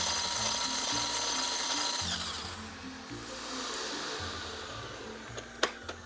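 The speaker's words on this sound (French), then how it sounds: "Maintenant, on peut démarrer à tout mixer. Alors les blancs, bien sûr, eux, ils vont monter en neige." An electric hand mixer whips egg whites to stiff peaks for a rolled sponge cake, a loud continuous motor whir whose low pulses shift as the beaters move through the bowl, ending with a few sharp clicks.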